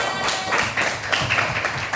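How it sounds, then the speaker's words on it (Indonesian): A primary class gives a short round of applause, a brief burst of scattered hand claps close by, with faint voices underneath. "tepuk tangan"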